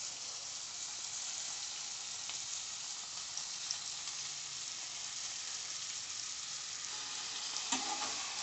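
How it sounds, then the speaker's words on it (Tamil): Radish pieces sautéing in a pan with rock salt, a steady close sizzle running throughout with faint stirring scrapes and a brief clatter near the end. "முள்ளங்கியோட பச்சை வாடை போகிற வரைக்கும் நம்ம வதக்கணும்"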